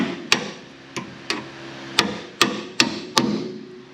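Seven sharp hammer taps ring out at irregular intervals as a suspension bolt is driven into place on the front suspension of a Pontiac Firebird, each strike crisp and close with a short metallic ring.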